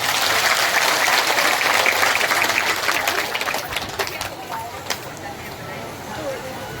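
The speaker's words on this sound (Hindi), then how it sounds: "आप सब एक बार इनके नाम की भी ताली बजाएं।" A crowd claps loudly and steadily at a Ram Katha saints' gathering held at the Bhrigu Rishi cow shelter, the applause fading after about four seconds while voices carry on.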